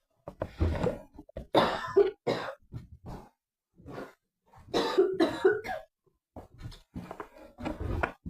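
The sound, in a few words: cough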